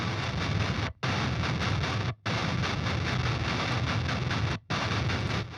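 Djent guitar low bus pitched down a full octave with the Gojira plugin and heavily EQ'd, a dense, loud, distorted chugging wall of sound broken by three brief silent stops.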